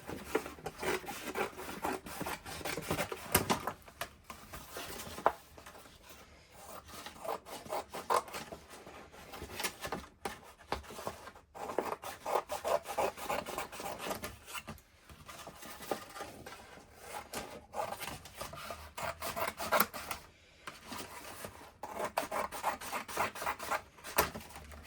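Scissors cut paper scraps into pieces along old folds, making repeated close snips and rustling paper at an uneven rhythm throughout.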